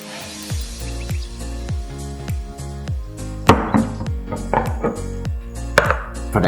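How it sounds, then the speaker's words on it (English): Knife chopping prawns in half for Yangzhou fried rice, a steady run of sharp chops on a cutting board, close and fairly loud with no talking over it. "we have to cut the prawn in half"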